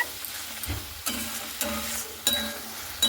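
Spice masala for a chicken dish being fried and stirred in a pan, soft steady sizzling broken by several distinct spatula scrapes and stirring bursts at roughly half-second to one-second intervals, close and moderately quiet.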